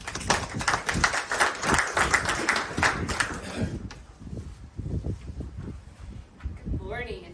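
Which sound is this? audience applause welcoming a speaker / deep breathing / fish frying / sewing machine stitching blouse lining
audience applause welcoming a speaker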